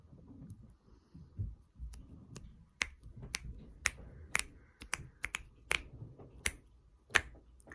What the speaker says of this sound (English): So I'm just snapping my fingers on.